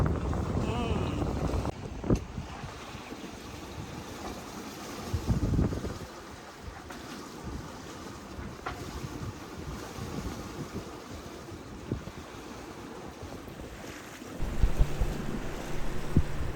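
Sailboat making a slow approach into a bay guarded by reef, with steady wind rumble and water wash throughout and a few louder gusts and bumps, no talk.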